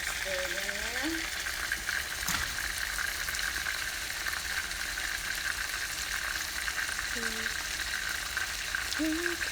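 Food sizzles and fries steadily in a pan with coconut milk stirred in, a continuous close hiss of bubbling oil with a spoon scraping now and then, while voices talk briefly in the background.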